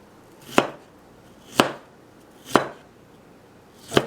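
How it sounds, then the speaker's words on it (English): A knife chops onion on a board in four separate, evenly spaced thuds, each sharp and close, with quiet between them. "let's chop some onion"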